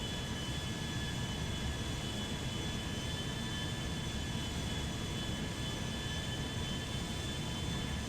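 Steady, continuous jet engine roar from an Airbus A340-300 taxiing in the GTA 5 video game, with a broad constant rumble and faint high whine holding level throughout, no talk.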